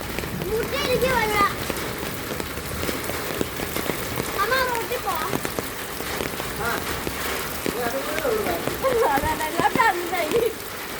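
Steady rain falls outdoors in a continuous pattering hiss, while voices talk and call out over it throughout.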